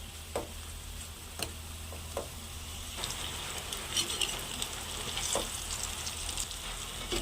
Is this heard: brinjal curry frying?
yes